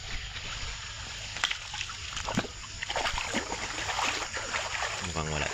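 A person wades through a river at night during eel hunting, with splashes and trickling water close by over a steady wash of insect-like background noise, while someone talks at times.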